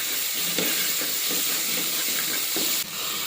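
Ginger paste being stirred in a hot frying pot for mutton curry: a steady loud hiss of steam and frying with a few scraping stirs, no talking.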